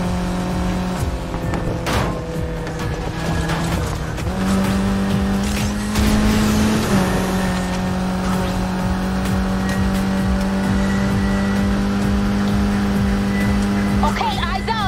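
Race cars speed through a Need for Speed Heat street race: a steady, loud engine drone rises and shifts in pitch with gear changes, with tire noise and passing cars throughout.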